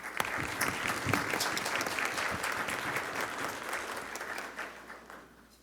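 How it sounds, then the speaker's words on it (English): A conference audience applauds at a cystic fibrosis research session, a dense steady burst of many hands clapping that thins and fades out toward the end, with no talking. "Thanks for the applause before I even said anything."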